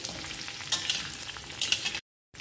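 Potato and pumpkin pieces fry in oil for a vegetarian pumpkin dish, a close, dense sizzle with a couple of louder crackling bursts as they are turned, stopping abruptly near the end.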